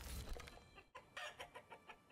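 Chickens in the village-building game Manor Lords cluck in a soft, faint series of short calls over quiet background ambience, with no talking.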